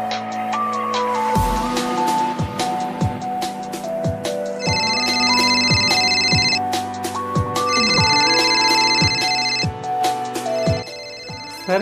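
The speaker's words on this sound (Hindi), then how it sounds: "सर के घर से फोन इस टाइम।" A telephone ringtone plays loud and close, a repeating electronic melody with bright beeping tones over a steady rhythmic pulse that keeps cycling through.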